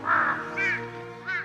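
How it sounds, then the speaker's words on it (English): Crows caw three times in quick succession, loud and close, each call harsh and slightly rising, with no other sounds around them. "Crows."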